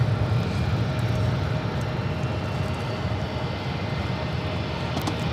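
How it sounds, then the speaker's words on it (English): A non-CRJ airliner takes off at LAX, its jet engines producing a loud, steady, broadband roar that fills the whole stretch with a low rumble, heard close and without talking. "I think that was our first non-CRJ takeoff"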